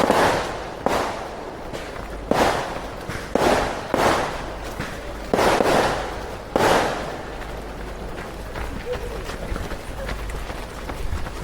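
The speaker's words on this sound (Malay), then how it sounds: "Bunga api." Fireworks go off at the start of a 50 km ultra race, the Batangsi Ultra, as a series of about seven sharp booms with short rumbling tails at irregular intervals, followed by a quieter stretch of crowd and footstep noise.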